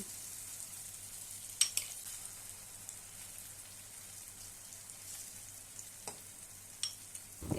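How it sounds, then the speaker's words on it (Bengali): Egg mixture for egg paratha sizzles faintly in a hot oiled pan, a soft steady crackle with a few sharper pops and clicks, no voices. "এবার আমি দিয়ে দিচ্ছি তৈরি করে রাখা ডিমের মিশ্রণ।"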